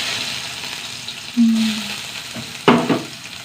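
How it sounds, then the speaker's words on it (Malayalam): Mustard seeds hit hot coconut oil in a pan, giving short, close sizzling hisses with a sharper burst of spluttering near the end. "കടുകിട്ട് കൊടുക്കട്ടെ പൊട്ടാട്ടെ കടുക്"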